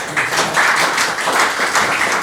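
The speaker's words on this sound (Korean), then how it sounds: "크게 박수 해주시기 바랍니다." Audience at a Korean theological graduate school graduation ceremony applauding, a steady dense patter of many hands clapping indoors, moderately loud and continuous with slight swells.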